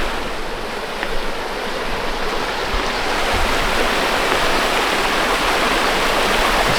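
A river flows with a broad, steady rush of water, loud and close, filling the whole stretch without talk.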